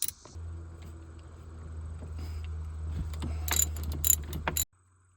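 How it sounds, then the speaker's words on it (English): A 14 mm wrench works bolts loose on an older Volvo Penta OMC marine fuel pump, giving close metallic ratcheting and clicking over a low mechanical hum, with sharper clanks near the end before it cuts off. "Now I'm using a 14 millimeter to get this bolt and this bolt off."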